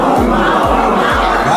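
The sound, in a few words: audience imitating a tiger roar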